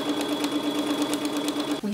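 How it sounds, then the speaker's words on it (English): Home sewing machine stitching a seam of a sewn jumpsuit over pins placed perpendicular to the seam, a steady fast mechanical whir with rapid needle clatter running continuously, close and alone, stopping abruptly at the end. "placing the needles perpendicular to the seam you're about to sew, so your machine can stitch over the needles nicely"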